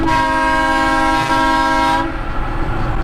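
Loud, sustained air horn blast on a semi truck hauling a load out of North Carolina, a steady chord held for about two seconds before cutting off into road and engine rumble.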